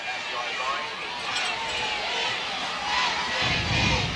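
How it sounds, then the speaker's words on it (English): Crowd at a 1996 high school football game between Mount Carmel Area and Bishop McDevitt, the McDevitt side up and cheering, a steady roar of voices from the stands that swells near the end, with an announcer talking over it. "the McDevitt side of the field is live. They are up and cheering here"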